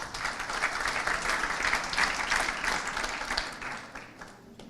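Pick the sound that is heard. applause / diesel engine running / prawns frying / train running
applause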